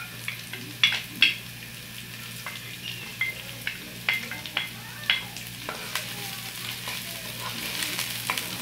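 Pimento, chive and celery sizzle in a pot for Trinidad callaloo, a soft steady frying hiss broken by repeated clinks and scrapes of stirring, close and fairly quiet.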